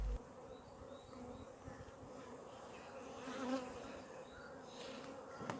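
Honey bees hum and buzz around the beehives, a soft, steady swarm drone close by with individual bees passing near, heard alone without talk.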